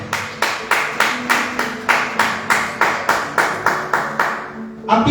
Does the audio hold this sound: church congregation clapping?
yes